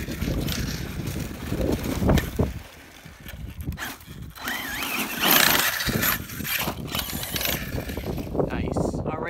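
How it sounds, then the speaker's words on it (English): An Arrma Kraton EXB RC car with a bent drive shaft dog bone makes rough mechanical clicking and rattling while driving on sand, close to the microphone and mixed with heavy wind buffeting. "I think the noise is coming from this bent drive shaft though, dog bone."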